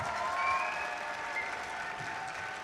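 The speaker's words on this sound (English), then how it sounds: "Please give them a huge round of applause." An arena audience at a robotics competition claps in sustained, dense applause, a broad even roar of many hands close by, with a little crowd murmur mixed in and no talking over it.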